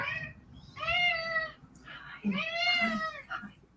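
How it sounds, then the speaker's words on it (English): Several drawn-out cat meows close by, rising and falling in pitch, with brief pauses between calls. "Oh, I recognize that meow."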